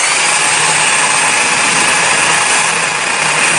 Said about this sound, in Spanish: Solo lo he taladrado un par de segundos y ya me empezaban a doler los brazos.